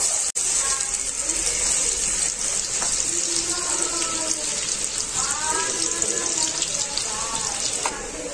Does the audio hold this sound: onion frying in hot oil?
yes